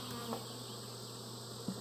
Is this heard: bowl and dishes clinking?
no